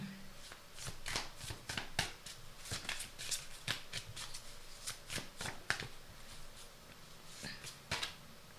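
Tarot cards are shuffled by hand at close range in quick, crisp riffling bursts. Each bout ends in a soft tap, and the sound runs steadily throughout with no voices.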